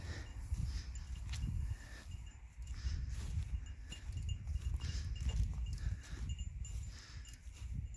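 Katahdin Dorper sheep and cows move between winter paddocks, their hooves clopping and shuffling close by against a steady, noisy outdoor background.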